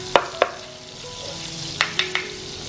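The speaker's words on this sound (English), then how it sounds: "garlic always smells good when it's frying" Garlic frying in melted butter in a pan: soft steady sizzle with a few sharp clinks of a utensil against the pan, no talking.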